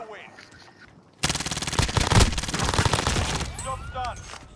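Rapid automatic gunfire in Call of Duty: Modern Warfare, a loud sustained burst of shots that starts abruptly and runs for several seconds before fading into scattered game sounds.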